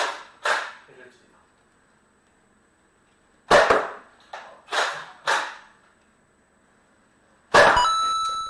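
A Nerf blaster firing darts at a target gives several sharp, loud, close pops and thwacks in short clusters separated by silence, with a longer burst at the end.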